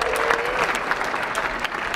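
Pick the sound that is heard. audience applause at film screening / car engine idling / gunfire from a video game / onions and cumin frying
audience applause at film screening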